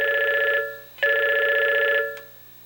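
A telephone bell rings in two loud, close bursts, each a shrill electronic trill of about half a second to a second, separated by a brief pause, then fades into silence.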